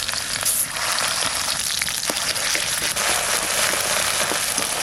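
Ginger garlic paste frying in mustard oil with cumin sizzles loudly and steadily, a dense, close hiss with scattered crackles and small spatters.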